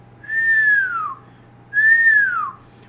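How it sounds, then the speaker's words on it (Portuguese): Two clear whistles through nearly closed lips, each a sustained tone that glides downward at the end, separated by a short pause against a faint steady hum. "se você assobiar com a boca mais fechada, ó, passar esse som"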